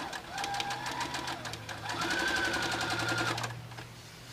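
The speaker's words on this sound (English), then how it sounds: "put them right sides together. And again, sew across that diagonal." A sewing machine stitches fabric strips across a diagonal, running in a steady fast whirring rattle for about three seconds before slowing and stopping, close up, with a voice faintly over it.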